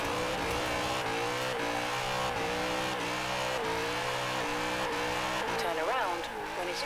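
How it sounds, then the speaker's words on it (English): A BMW E39 M5 V8 engine revs repeatedly in the video game Forza Horizon 4, with the pitch climbing and dropping over steady road noise. A brief tire squeal comes near the end, and a voice talks over the car. "BMW V8s always sound good."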